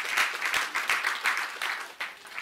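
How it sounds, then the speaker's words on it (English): An audience at a live masterclass event gives a round of applause, a lively wash of many hands clapping at a moderate level, steady for a couple of seconds. "Can we have a round of applause for all of our attendants from outside of Merseyside?"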